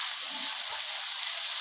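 Garlic paste sizzles and fries with onions in a pan, a steady close bright hiss with a faint stir midway and no talking.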